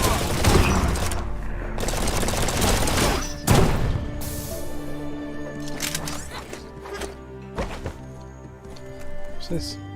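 Gunfire in the post-apocalyptic kung-fu RPG Biomutant, sharp loud shots and impacts clustered at the start, then scattered hits and ringing tones fading into quieter game sounds while someone talks.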